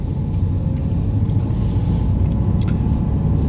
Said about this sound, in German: Mach mal, gib mal Gas.